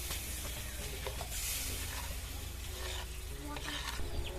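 Steady, dense sizzling in a hot pan as spice powders and tomato are stirred for an egg curry, with scraping, stirring strokes throughout, no voices.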